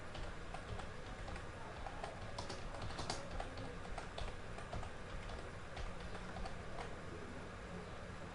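Typing on a computer keyboard goes on in steady, quiet clicks for several seconds, with one slightly sharper keystroke standing out, like Enter being pressed, over a faint background hiss.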